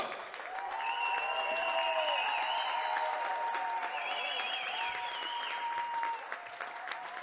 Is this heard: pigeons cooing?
no